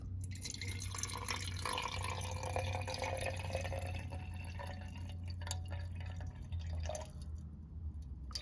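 Water pours steadily into a container on a scale in a continuous trickling stream, about 94 grams measured, with small drips and splashes near the end.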